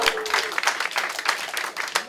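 Audience applause at a stand-up comedy show, a short burst of scattered clapping from a crowd heard at moderate distance.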